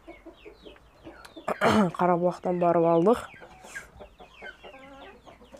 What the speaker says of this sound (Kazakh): Міне тауықтар.